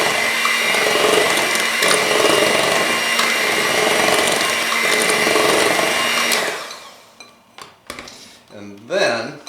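An electric mixer whirs loudly and steadily, beating vanilla extract into cake batter for a skillet pineapple upside-down cake, then cuts off, leaving a few clinks and a brief voice.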